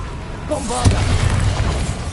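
The Bombarda explosion spell in Hogwarts Legacy on PS5 goes off as a single deep, booming blast that rolls on under a shouting voice.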